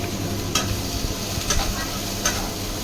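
Vegetables for a fish stew sizzle steadily in a hot pan while a utensil stirs them, scraping at a few spaced moments, close and moderately loud.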